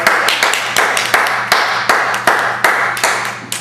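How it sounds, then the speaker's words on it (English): Sparse, individual hand claps ring out one after another in an irregular rhythm at an event honoring Next Step members, close and crisp with a faint steady hum underneath. "and again, another big round of"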